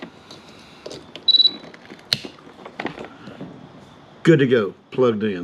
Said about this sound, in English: You heard it beep